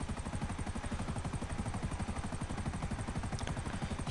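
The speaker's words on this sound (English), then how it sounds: "the helicopter's on fire" A burning helicopter in GTA 5 Online gives a steady, rapid rotor chop with dense engine roar, loud and unbroken throughout, with no talk over it.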